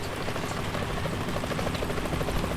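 Continuous rapid thumping of helicopter rotor blades in Metal Gear Solid 2 with a broad whooshing roar, steady and fairly loud throughout, with no speech.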